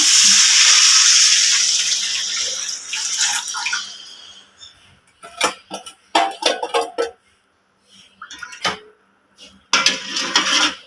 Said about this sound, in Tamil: ஆட் பண்ணிவிட்டு இதை வந்து மீடியம் ஃப்ளேமில் வச்சு நல்லா கலக்கிட்டே இருங்க